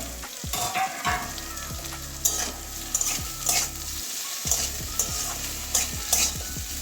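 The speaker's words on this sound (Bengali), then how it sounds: "ঢাকনাটা খুলে নাড়িয়ে দেবো একবার" Bitter gourd frying in a pan, uncovered and stirred: a constant sizzle under repeated scraping and knocking strokes of a spatula against the pan, close up, with a low hum beneath.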